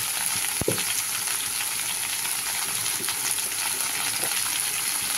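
Spices sautéing in oil in a pan, a steady close sizzle with a sharp clink of a utensil early on and faint stirring scrapes throughout.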